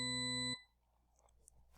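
A computer-generated tone complex of stacked pitches, each double the last starting from 125 Hz, sounds as a bright, steady, buzzy chord for about half a second, then cuts off into near silence with faint clicks.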